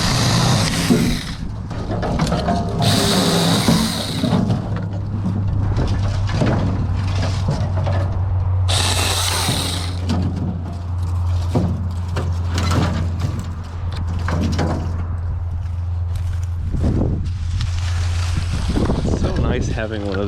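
A Saker mini chainsaw cutting wood drones steadily for most of the stretch, with brief bursts of louder hissing noise and some background voices.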